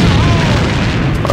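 A grenade explodes in the shooter game AVA: a loud, sustained booming rumble that fills the whole moment, with a faint crackle near the end.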